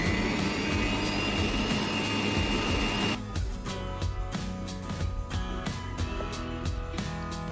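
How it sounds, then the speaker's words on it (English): Electric mixer whisking eggs and sugar in a bowl, a steady loud motor whine that drops in pitch partway through and keeps running with rhythmic rattling beats, no voices. "In a bowl, whisk together 2 eggs and 250 grams of sugar until light and fluffy."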